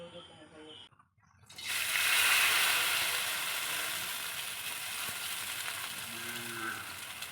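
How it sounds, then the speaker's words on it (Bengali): Boiled chow mein noodles dropped into hot oil, bursting into a loud, steady sizzle after a brief quiet gap and settling into continuous frying hiss up close, with faint talk before and near the end. "তো এই সিদ্ধ চাউমিনটা দিয়ে ভেজে নেব"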